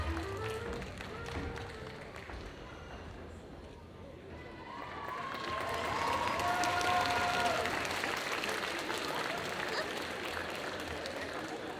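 Crowd applause for cosplayers at a game convention parade, a broad wash of clapping that swells midway and holds, with voices and some tonal noise mixed in across a large hall.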